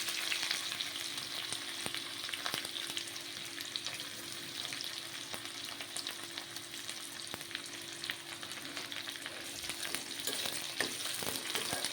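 Onions and mustard seeds fry steadily in hot oil for a cucumber and raw prawn curry, a dense continuous sizzle close up, with scattered sharp pops and crackles and occasional stirring, with no talking.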